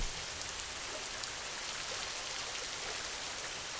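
Steady rain falls in a soft, even hiss of countless drops, with no other sounds standing out above the wash.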